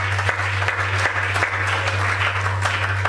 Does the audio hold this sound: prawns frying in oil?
no